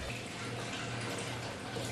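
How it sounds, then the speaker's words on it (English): Gasoline pouring in a steady, continuous stream into a pitcher for chainsaw fuel mix, close by, with no pauses over the short stretch. "You take your gas and you pour it in a large portion of the"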